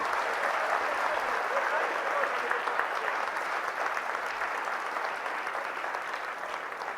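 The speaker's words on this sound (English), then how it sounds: "Give the coach a round of applause" A gym audience at Memorial Gym gives a coach a round of applause, a sustained, even roar of many hands clapping at a moderate distance that tapers slightly toward the end, with faint voices inside it.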